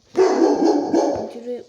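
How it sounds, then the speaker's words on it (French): A single drawn-out, whiny bark or yelp from a dog close by, continuous and strained, lasting over a second. "Ils avaient pas remarqué qu'elle aboyait"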